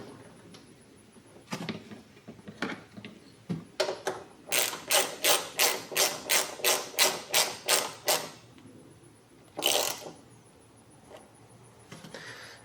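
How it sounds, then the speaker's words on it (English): Small nut being threaded back onto its bolt on a Mercedes M272 V6 engine of a 2006 E350, with a quick run of about a dozen even, rhythmic ratchet-like clicks mid-clip and a few scattered metallic taps before and after. "Now I can put this little nut back."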